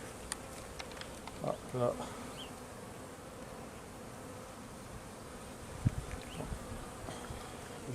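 Honeybees buzz steadily around an opened weak hive during an inspection in March, a dense, close drone with scattered clicks and knocks from the frames and a brief quiet voice.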